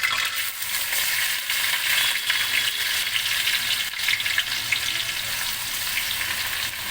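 Washed, dry-roasted mung dal fries in tempering oil for khichuri over low heat, giving a loud, unbroken sizzle close by with faint scraping from stirring.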